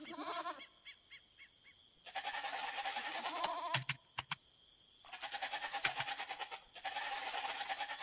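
Sheep bleat in close, loud bursts, several calls in quick succession with short gaps between them, heard alone without talk.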